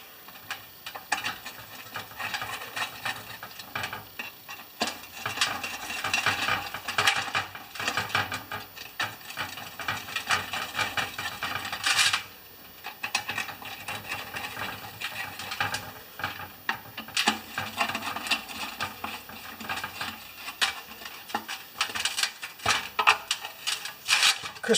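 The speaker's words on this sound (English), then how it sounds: "let's screw this down." Small screws are driven down on a classic Briggs carburetor by hand, giving a string of faint, close clicking and scraping tool sounds with brief pauses and no talk.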